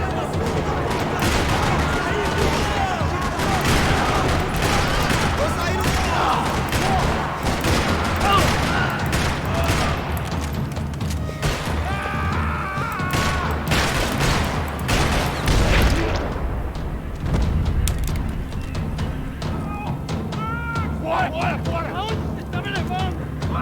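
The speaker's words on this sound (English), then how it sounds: "Another parking lot rattling with gunfire." Rattling gunfire crackles across a parking lot in the video game Max Payne 3: dense bursts of shots and booming impacts layered with game sounds, continuing almost without pause through the whole stretch.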